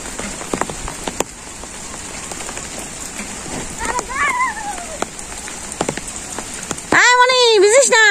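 Heavy storm rain pours onto surfaces in a rural village, a dense patter with sharp drips, while voices talk briefly over it and a louder shout rises near the end.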